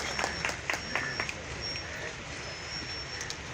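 An audience at a vocational training institute job fair clapping after a guest is invited up, a steady wash of applause with scattered louder claps, heard from within the hall.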